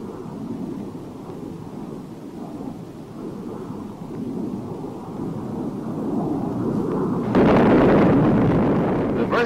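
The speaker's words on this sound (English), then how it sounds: "Shown here is the delivery of a partial load composed of 13 750-pound demolition bombs." Thirteen 750-pound demolition bombs dropped from a fighter aircraft detonate as a heavy rolling rumble that builds into a louder, sustained roar toward the end, with no voices.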